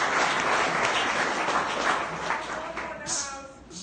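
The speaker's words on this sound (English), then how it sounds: "Give yourselves a round of applause. Clap it up for yourselves for coming out." A crowd at an outdoor community celebration in South Baltimore applauds in sustained dense clapping, loud and near, fading slightly toward the end with some voices mixed in.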